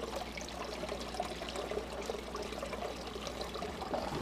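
Water poured into a hellbender's aquarium tank, a steady close splashing trickle running continuously without pause, alone with no talk.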